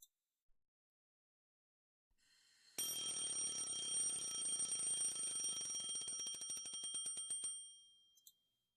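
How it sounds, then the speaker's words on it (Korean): An alarm clock bursts into a bright, continuous metallic ringing that runs for about five seconds, then stops abruptly, close and alone in a quiet room. "반사적으로 자명종을 누른다."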